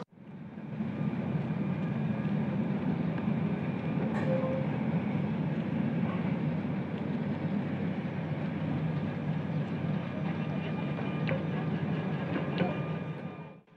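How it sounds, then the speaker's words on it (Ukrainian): A tram with no passengers, carrying only test technicians, pulls away and rolls along with a steady low rumble and running hum, plus occasional clicks and squeaks throughout. "Трамвай вирушає у дорогу, але поки без пасажирів."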